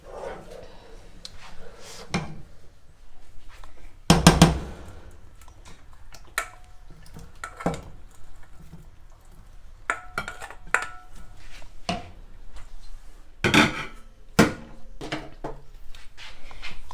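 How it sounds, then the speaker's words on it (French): Tuna pasta sauce is mixed and pasta added to a pan, with sparse scattered clanks and scrapes of utensils against cookware, a couple of louder knocks among quieter intermittent clatter. "je mélange ma petite sauce et je vais venir ajouter les pâtes maintenant"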